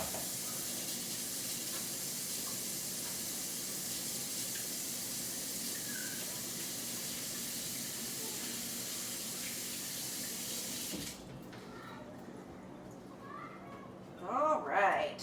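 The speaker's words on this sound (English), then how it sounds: "Wash my hands really good. You can count, make sure I'm doing it for 20 seconds." Hands being washed under a running kitchen tap: a steady, close hiss of flowing water for about eleven seconds, then the tap shuts off and a voice speaks briefly near the end.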